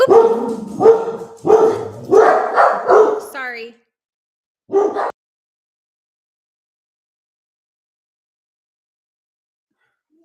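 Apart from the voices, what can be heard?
dog barking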